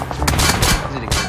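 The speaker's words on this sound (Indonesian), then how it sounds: "Dah sudahlah tu menembak banyak kat sini" Video game gunfire, a quick burst of three or four loud, sharp shots in rapid succession, close and punchy over a short span.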